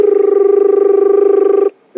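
A person whistles or hums an imitation of a crested barbet's call, a loud, sustained buzzing trill held for over a second and a half, then cut off before a brief restart.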